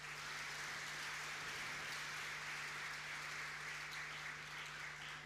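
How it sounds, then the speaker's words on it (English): Steady applause from an audience at a science-stream award ceremony, a soft, even wash of clapping heard from a distance that continues without a break. "Please give an applause for that."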